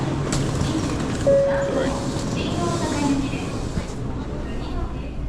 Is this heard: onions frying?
no